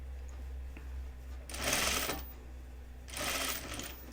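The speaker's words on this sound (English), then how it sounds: "you're going to be stitching through some of this fullness and these little ruffles that we've created" Sewing machine stitching a French seam set-in sleeve through gathered fullness and small ruffles, two short bursts of running stitches over a steady low hum.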